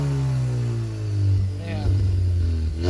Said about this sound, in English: put it in park and go ahead and give it a little rev